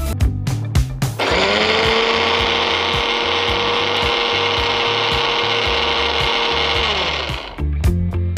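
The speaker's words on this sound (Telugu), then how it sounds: "సో ఇప్పుడు మనం మిక్సీ పట్టుకుందాం." A kitchen mixer grinder whirs loudly while grinding soaked urad dal with a little water. A few clicks of handling come first, then about six seconds of steady, high motor whine that cuts off into more clatter.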